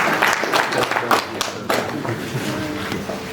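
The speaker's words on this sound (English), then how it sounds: "Can we clap for him?" An audience at a business awards gala dinner claps for a speaker, a dense patter of many hands that is loud at first and then eases off, with a faint voice in the background.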